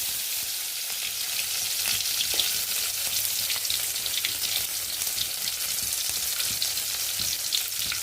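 Shallots sizzle and crackle steadily in hot oil with mustard seeds, a dense, loud frying hiss that continues without pause.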